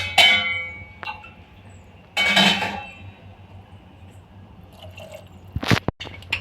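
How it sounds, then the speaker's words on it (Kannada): Water poured into a pan of ivy bean (gorikayi) curry: short splashing pours and drips in separate bursts with quiet gaps, ending in a few sharp clinks of a pot or utensil. "ನಾನಿಲ್ಲಿ ಅರ್ಧ ಲೋಟ ನೀರು ಹಾಕ್ತಾ ಇದ್ದೀನಿ."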